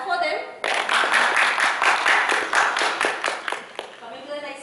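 An audience at a medical quiz competition claps for a team in a brisk, fairly close burst that starts abruptly, holds steady, then thins out, with a voice briefly audible before and after.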